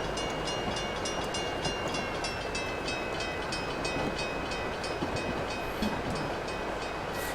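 A train in Train Simulator 2015 runs along the Chicago–Aurora route, a continuous rolling rumble with steady rhythmic clicks of the wheels over the track joints at a constant moderate loudness.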